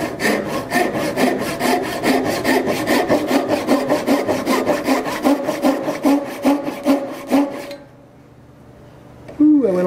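Hand saw cutting a groove in wood, a close, loud run of regular rasping back-and-forth strokes that stops near the end, followed by a brief quiet and a short knock.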